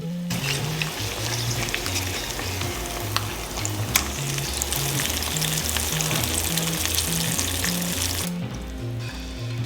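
Eggs sizzle and crackle steadily in a hot pan, a close, continuous frying hiss with faint utensil scrapes, which fades near the end.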